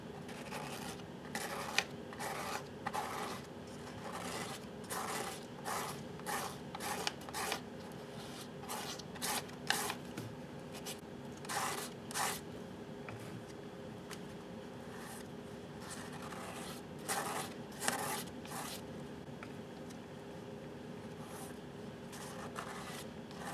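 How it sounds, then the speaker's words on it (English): A palette knife drags gesso through a stencil in a long series of short, rhythmic scraping strokes, close and fairly quiet, with brief pauses between passes. "you can scrape that gesso right through the stencil with the palette knife"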